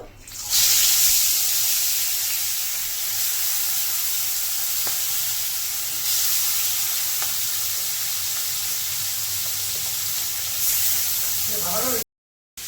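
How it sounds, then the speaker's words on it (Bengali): Bata fish fries in hot oil with a loud, continuous close hiss of sizzling that holds steady for about twelve seconds before a sudden cut. "শুকনো শুকনো করে বাটা মাছটাকে ভেজে নিব"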